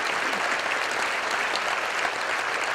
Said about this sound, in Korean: 박수했으면 좋겠습니다.